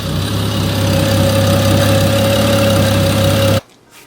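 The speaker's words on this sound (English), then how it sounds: "my car sounds like it's dying right now" A BMW E9X engine idles roughly, a steady, loud low drone with a constant hum that cuts off abruptly near the end, leaving near silence.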